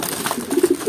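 Racing pigeons on basketing day in Aparri, Cagayan coo softly while feeding, in a short, close, continuous murmur of low throaty calls.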